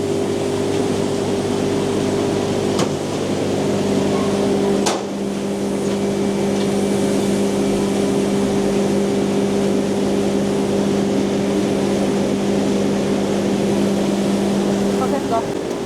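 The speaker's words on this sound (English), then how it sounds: "This is our package machine." A machine packing granular magnesium sulfate fertilizer into 20 kg bags runs in a factory, giving a loud, constant mechanical drone with a few sharp clicks near the start.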